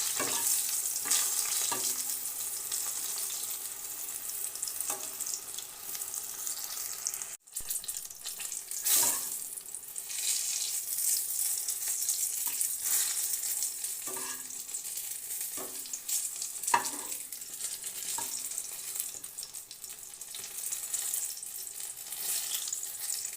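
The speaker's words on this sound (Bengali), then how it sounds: "এপিট এপিট করে ভেজে উঠে নেব মিডিয়াম আঁচ রেখে ভাজবো" Eggplant slices fry over medium heat in a pan of oil. A steady sizzle runs throughout, broken by scattered clicks and scrapes as the slices are turned. There is one brief dropout, and no one talks.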